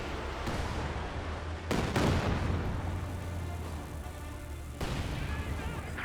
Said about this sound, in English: Firing a close range barrage on the pack gun.